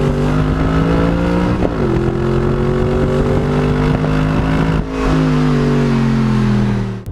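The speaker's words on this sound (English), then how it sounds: "With a V8 mounted right behind you, of course, the R8 produces some brilliant noises" An Audi R8's rear-mounted V8 revs hard and loud, rising in pitch before clean upshifts at about two and five seconds drop the note, then it climbs again, steady and close with no talk.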